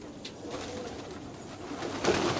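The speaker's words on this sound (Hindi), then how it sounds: "ये होते हैं पटियाले, ये पंजाब का कबूतर है" Patiyale pigeons, a Punjab breed, coo softly among rooftop lofts in Old Delhi, low rolling calls that swell slightly near the end over faint background noise.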